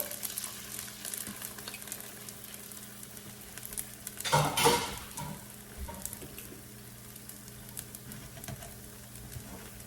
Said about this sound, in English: You kind of just scramble it here on this side